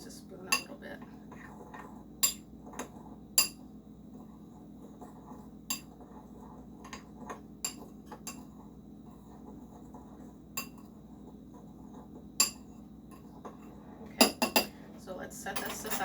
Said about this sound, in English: with a fork, I'm gonna go ahead and mix this crumb topping real quick